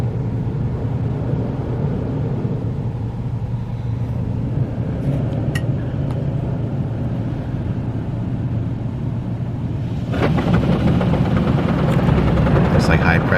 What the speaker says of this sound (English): Scrubbing the wheels, it looks like.